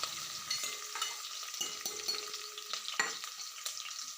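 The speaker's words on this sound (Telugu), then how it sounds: "ఆనియన్ అండ్ మిర్చి అయితే వేసుకున్నాను. మంచిగా కలుపుకొని అయితే కాసేపు అయితే టైం ఇచ్చాను ఫ్రై అయ్యడానికి." Onion and green chilli frying in a pan for drumstick sambar, a steady close sizzle with scraping stirs and a few sharper clinks of the spoon against the pan, no talk.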